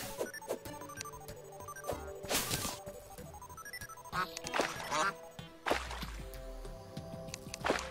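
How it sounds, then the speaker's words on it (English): Duck quacks from a cave area in the game Terraria come in short bursts over busy game sound effects and music, with no talk. "I don't see the duck, but I hear the duck."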